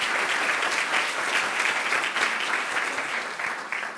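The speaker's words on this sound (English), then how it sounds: "I hate to clap after that" Loud, dense audience clapping at a panel discussion on living with dementia, a continuous roar of hands with no voices, tapering slightly at the end.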